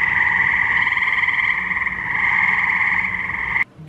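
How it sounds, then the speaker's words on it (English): A frog calls with a continuous, loud, trilling croak, a sustained buzzy pulsing note held close for several seconds before it abruptly stops. "Frogs may also vocalize to establish territorial claims"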